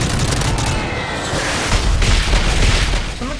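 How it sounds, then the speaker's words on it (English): Explosions and gunfire in the Modern Warfare 3 Spec Ops game, a dense roar of booms and rapid shots that stays loud and close throughout, with heavy low rumble swelling midway. "Let's see if everything blows up now."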